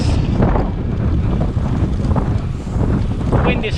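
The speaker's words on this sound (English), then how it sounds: "The wind is from my left," Steady wind roars and buffets across the microphone of a bicycle on a long-distance audax ride in Wiltshire, a loud continuous rumble with gusty swells and no clear speech.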